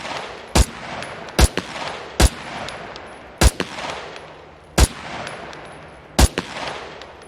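Rifle fire in the SCUM video game: six sharp, loud single shots spaced irregularly about a second apart, each with a short echoing tail, no talking.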